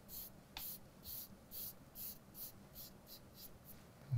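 A hand rubs conté pencil shading into paper in soft, rhythmic swishing strokes, about nine even passes, faint and close, with no voices.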